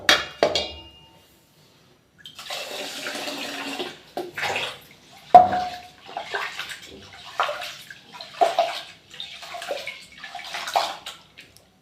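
Something being washed by hand in water in a home kitchen during morning cooking, with sloshing, splashing bursts that come and go in an irregular rhythm, close and fairly quiet, with no talk.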